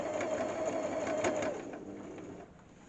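A sewing machine stitches a padded cushion cover in a short, close burst of rapid mechanical whirring that stops halfway through, leaving faint room noise.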